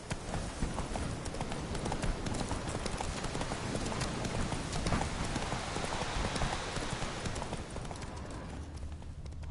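Hooves of Roach, the horse in The Witcher 3, drum in a dense continuous gallop, close and loud, mixed with a rain-like wash of noise, with little else heard.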